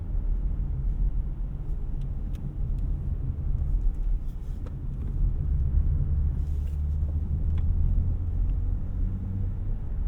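A 2023 Dodge Challenger SXT V6 rounds a corner with a steady, low engine and road rumble heard from inside the cabin, a constant droning hum with faint rattles and no voices.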